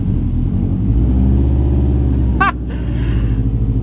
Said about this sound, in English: Here we are driving the world's first all-wheel drive Miata, pretty much finished